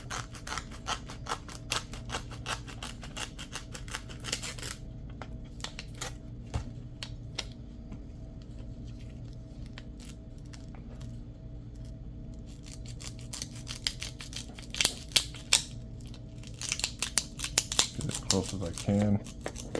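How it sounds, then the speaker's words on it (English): Scissors snipping through a Velcro patch for a tactical vest or backpack, a run of close crisp cuts near the start and a busier burst of snips toward the end, with quieter handling and a steady low hum in between. "These are not the best scissors, but they'll do for now."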